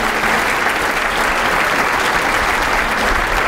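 Loud, dense applause from a large audience fills the hall at a 2018 scholar-athlete recognition awards ceremony, honoring Team Maine 2017, steady and unbroken throughout.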